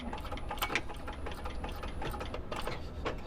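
A sewing machine runs at close range, making a busy, rapid mechanical patter as it goes back over the stitches on a canvas shoulder bag. The sound is steady and fairly quiet, with no one speaking.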